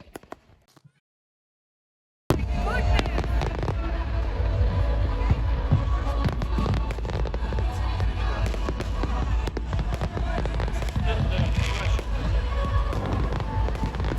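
Fireworks launched from a beach in Darwin go off in a dense, continuous barrage of loud bangs and crackles with crowd noise mixed in, following a couple of seconds of near silence.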